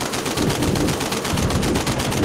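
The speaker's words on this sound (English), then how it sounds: "Somebody's shooting at me" Rapid machine-gun fire from a World War One fighter plane in a VR flight combat game, a dense, continuous rattle of loud shots that runs unbroken from start to finish, with no voices.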